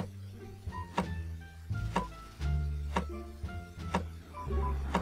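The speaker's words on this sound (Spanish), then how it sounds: "No, es un auto." A car passes outside in the stealth game Very Organized Thief, a low engine rumble rising and falling in repeated swells, with sharp clicks and thuds from nearby gameplay over it and no talk.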